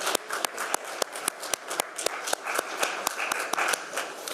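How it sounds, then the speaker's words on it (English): Delegates at the FIDE General Assembly applaud in approval of Charter amendments, a loose, moderately sized round of clapping in a hall, steady and close throughout. "Please applaud those who approve the proposals to amend the Charter"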